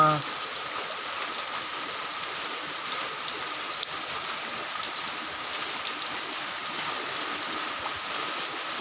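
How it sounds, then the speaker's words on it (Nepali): Heavy monsoon rain pours down in a continuous, dense hiss, steady and loud from start to finish with no clear voices over it. "यति धेरै पानी परिरहेको छ कि हामी कहीँ पनि बाहिर निस्किन सकिरहेको छैन।"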